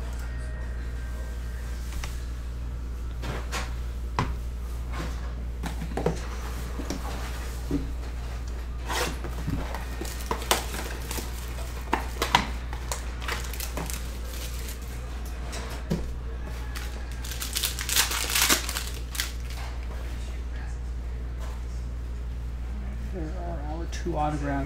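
Panini Mosaic Choice baseball trading card packs are torn open at a table, brief crinkly ripping and foil rustles scattered through the clip under steady low hum, with people talking throughout.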